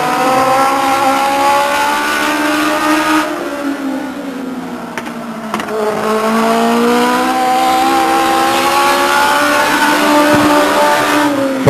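Legends race car lapping Stockton 99 Speedway, its engine note a loud, high whine that rises and falls as it passes and comes round again, with a brief dip partway through.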